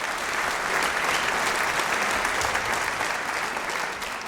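Enthusiastic audience applause for child performers, a dense, steady wash of clapping from a crowd that stays loud throughout and eases slightly at the end.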